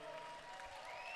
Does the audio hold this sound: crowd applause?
yes